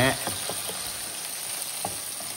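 Fish fries in hot oil in a home kitchen, a steady close sizzle with a few soft stirring or turning clicks, fairly even in loudness and free of speech.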